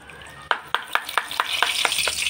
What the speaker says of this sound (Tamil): பூந்தியெல்லாம் நல்லா சர்ன்னு வருது